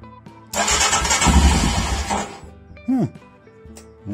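A fuel-injected Royal Enfield Himalayan motorcycle engine cranks and fires up close, a loud burst of starter and engine noise for about two seconds before settling back, with a short chirping sound afterward.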